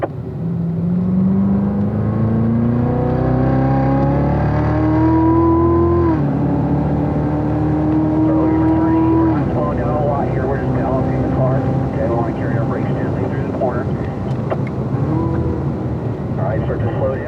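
A race car accelerates on the Spring Mountain track, its engine note climbing in pitch through repeated rising sweeps and gear changes, loud and close throughout.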